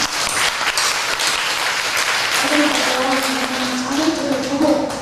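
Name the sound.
congregation applauding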